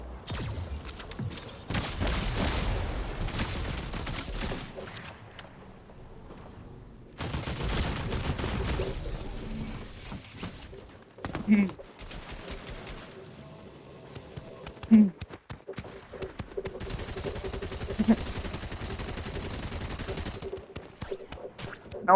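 Rapid bursts of gunfire in a one-on-one video game match, arriving in dense clusters separated by brief lulls, with a voice talking over parts of it.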